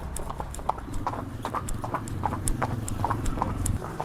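Mares' hooves clop in a steady, repeated rhythm close by, a continuous low rumble underneath, with no talking.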